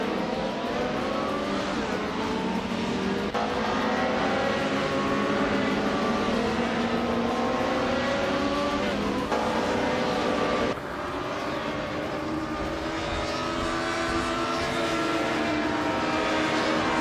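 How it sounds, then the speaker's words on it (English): A 1996 Opel Calibra DTM race car engine in a racing game, revving high and shifting through gears with rising and falling pitch, loud and continuous with other cars droning alongside. "Ingle McCringleberry is driving a 1996 Opel Calibra DTM"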